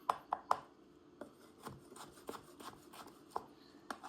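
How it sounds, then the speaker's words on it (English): Knife chopping raw chicken on a cutting board while preparing it for Trinidad and Tobago style curry, with a few sharp close chops early on and then softer, irregular knocks and scraping. "Chop this one in half."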